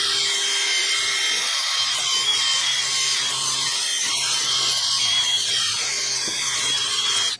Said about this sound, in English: I'm going to clean all the rust off of this hub, and I'm just going to use this little wire brush on the drill.